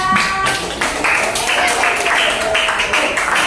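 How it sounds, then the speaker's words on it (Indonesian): A classroom group claps together in quick, uneven rhythm for a few seconds, close and fairly loud, like a room full of people applauding. "Tepuk tangan kelompok 3."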